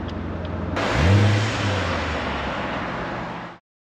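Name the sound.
Chevrolet Corvette C7 V8 engine accelerating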